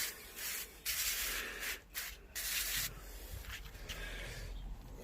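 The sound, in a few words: garden sprayer spraying plants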